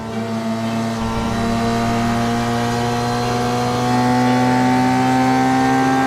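A motorcycle speeds along a deserted road in a horror story, its engine a loud, steady, close droning hum that swells slightly toward the end, heard alone with no talking.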